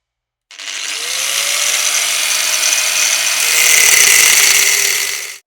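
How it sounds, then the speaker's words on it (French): A power tool, likely an angle grinder, runs loud and close in a steady high whine that holds for about five seconds, rising slightly before it cuts off. "Quel est le niveau de décibels d'une meuleuse?"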